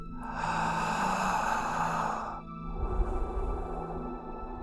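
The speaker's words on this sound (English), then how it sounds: "Take another deep breath." A long, slow deep breath taken during a guided meditation, a steady airy exhale lasting a couple of seconds followed by a softer, breathy tail, close and alone with no talking.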